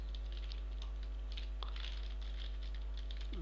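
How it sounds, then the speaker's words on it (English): Rapid keystrokes clatter on a computer keyboard during a computer science lecture, a steady patter of soft clicks fairly close, over a constant low electrical hum, with no voices. "You people will see carefully what I'm typing."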